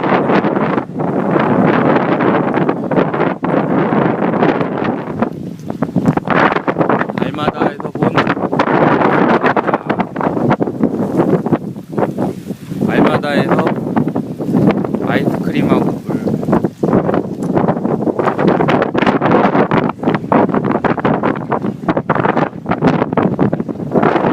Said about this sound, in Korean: 바람이 아주 시원하게 많이 많이